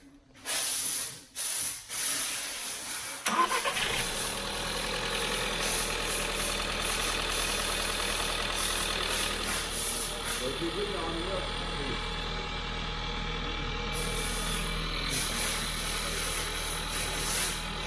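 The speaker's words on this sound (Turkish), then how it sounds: "hayırlısıyla bir marşa basalım bakalım neler bizi bekliyor" A 1.2 TSI turbo car engine, just serviced, cranks and catches, then settles into a steady rumbling idle with some hissing, while voices talk briefly near the start.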